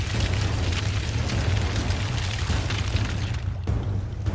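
An explosion in The Witcher 2 video game, a sustained low rumbling boom that fills the clip loudly with a dense roar, briefly dipping near the end before swelling again.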